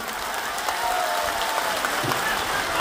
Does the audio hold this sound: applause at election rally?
yes